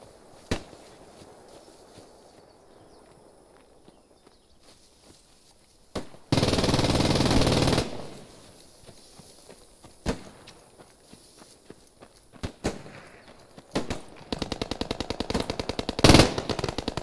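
Machine gun fire in Post Scriptum: scattered distant shots and footsteps lead into a long sustained burst, then more isolated cracks and a final rapid rattling string of fire near the end.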